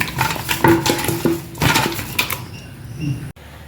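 Biryani ingredients are stirred in a pot, with close, rhythmic clatter and scraping of a metal spoon against the vessel that stops after a few seconds.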